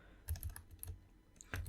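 Computer keyboard keys are struck in short irregular clusters while code is typed, close and quiet, with pauses between bursts of clicks.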